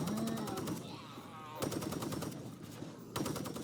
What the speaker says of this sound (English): Once he arrives, switch to Stormbringer and shoot his head in full auto mode